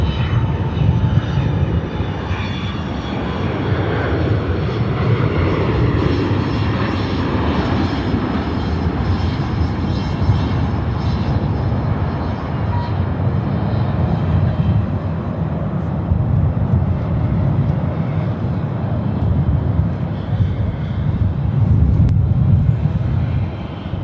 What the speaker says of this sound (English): All Nippon Airways now. They'll be rolling out from behind the trees